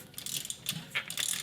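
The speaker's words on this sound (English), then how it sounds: "That rattle is actually some stiffeners inside the post" Loose metal stiffeners rattle inside a deck railing post, giving a faint, irregular run of light clicks and taps, close by and with no voices.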